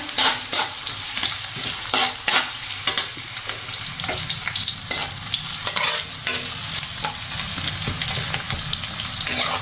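Garlic and chunky-cut ginger frying in oil in a pan while being stirred, a steady close sizzle broken by repeated scraping strokes of the spoon.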